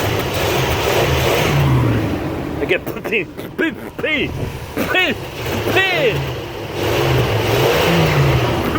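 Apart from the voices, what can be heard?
RV engine revving as gas pedal is blipped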